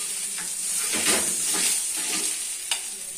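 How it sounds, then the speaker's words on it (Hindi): Eggs frying in a hot pan for breakfast, a loud close sizzle with bursts of crackle and spatter. "ये भी हमारा फ्राई हो गया।"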